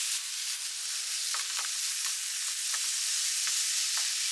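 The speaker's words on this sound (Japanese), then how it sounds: "照りよく炒めて完成です。" Food stir-frying in a glaze of sake, mirin, sugar, soy sauce and shiro-dashi reduced until nearly dry, with a faint, steady high sizzle broken by light scattered ticks of stirring.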